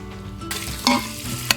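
Curry leaves and green chillies sizzle and fry in a pan, a loud close hiss with a couple of sharp clinks as they are stirred.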